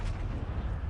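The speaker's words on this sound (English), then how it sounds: "I just heard that explosion." A vehicle explosion in GTA 5, heard during a hard-difficulty heist mission, sounds as a heavy, sustained low rumble with booming, blast-like energy that fills the whole second.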